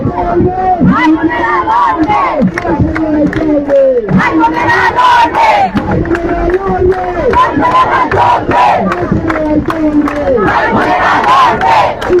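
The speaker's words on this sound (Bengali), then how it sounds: "বর্তমানে স্লোগান দিচ্ছেন এখানে" Protesting students chant slogans in a loud, rhythmic mass of shouted voices, repeating calls in waves with a raucous crowd swelling underneath throughout.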